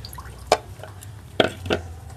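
Water drips while rain-season leaves of a sweet herb are rinsed for a leaf sherbet, three distinct close drops splashing at uneven intervals over quiet background.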